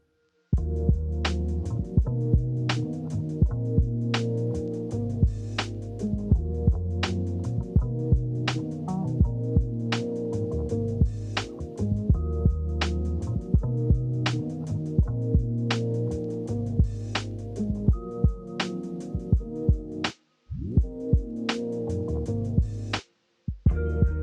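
A sewing machine stitches fabric for a cloth flower in a steady, rhythmic hum with regular mechanical ticks, running continuously with two brief pauses.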